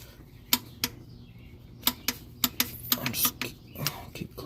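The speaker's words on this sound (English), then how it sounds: "I use a torque wrench to torque the drain plug." Sharp clicks from a torque wrench tightening the oil drain plug on a 1984 Mercedes 300SD during an oil change, a series of short distinct snaps spaced irregularly over a low background hum.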